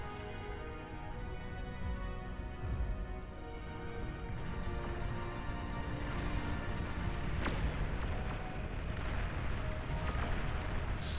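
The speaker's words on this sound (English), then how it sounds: "I forgot just how great these artillery cannons are." Artillery cannons fire in the real-time strategy game Beyond All Reason, a dense, continuous rumble of distant booms and blasts with one sharper, louder impact partway through.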